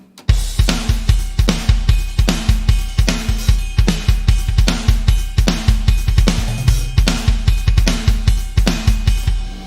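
A drum beat plays at a steady tempo, punchy kicks and snappy hits repeating in a tight groove for several bars.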